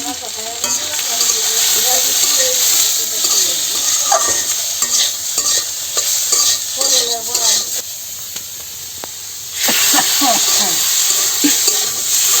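Vines are stir-fried in a pan with turmeric, dried chilli powder and salt, giving a loud continuous sizzle with repeated scraping stirs, while voices talk over it; the sizzle dips briefly before surging back.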